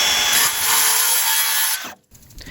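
Power saw cutting 2-inch wooden trim for an 8x12 shed build, a loud continuous whining rasp lasting nearly two seconds, then stopping abruptly into near quiet with faint handling noise.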